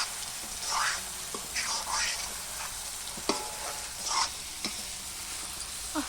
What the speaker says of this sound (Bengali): আর এদিকে মাটন কিছুটা কষানো হয়েছে, আর কিছুটা বাকি আছে।